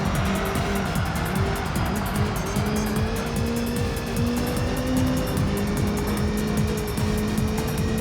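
A Citroen Xsara race car in Gran Turismo 3 drives hard with a steady high-revving engine whine, pitch rising and dropping through gear changes, loud and continuous with faint tire noise.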